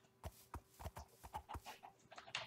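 A horse in the Minecraft video game trots along with quick, evenly spaced clip-clop hoofbeats, moderately loud and close, with no talking over them.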